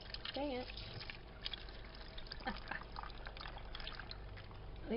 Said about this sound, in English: you will need to add water to this, enough to cover the vegetables in the bottom of it